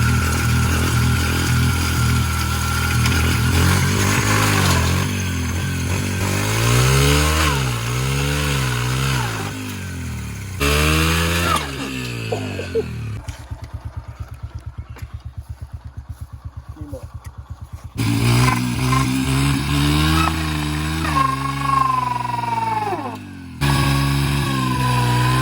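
Dirt bike with its biggest rear sprocket revs hard in a burnout, rear tire spinning fast, the engine loud and close with repeated rising and falling revs, a quieter idling stretch midway, and people talking over it.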